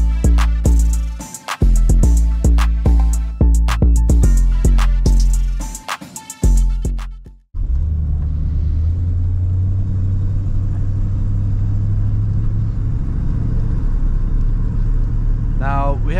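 A 1950 Ford Custom Coupe with an upgraded 302 V8 and C6 automatic, first a series of sharp clunks and knocks, then a loud steady engine rumble as it drives, with someone talking over it.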